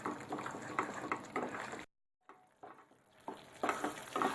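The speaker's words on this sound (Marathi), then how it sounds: "हे वाटण असं जवळजवळ 4-5 मिनिटं मी छान परतून घेणार आहे," Spice paste (vaatan) sautéing in hot oil for shev bhaji, with a steady sizzle and stirring scrapes that drop out into near silence midway, then return and build to louder bursts of frying.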